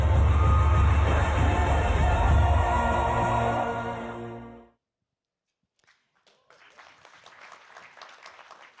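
A large live audience at a 24-team event, applauding in loud, sustained clapping that cuts off abruptly. A few scattered claps and faint voices follow.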